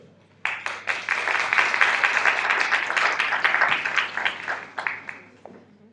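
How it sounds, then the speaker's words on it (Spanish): A crowd breaks into applause for panel members at a local heritage-sites forum, the clapping starting abruptly, holding steady and full for several seconds, then tapering off to quiet. "Un aplauso."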